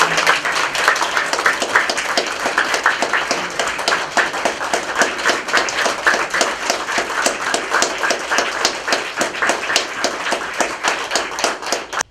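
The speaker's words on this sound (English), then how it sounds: "he deserves another round of applause" An audience applauds at an international symposium, with dense, sustained clapping that keeps an even rhythm for about twelve seconds before cutting off. No talking is heard.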